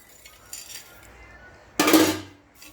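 A metal utensil scrapes and clinks against a pan while roasted peanuts are lifted out, one short burst of clatter at close range after a few quieter touches, with no talk.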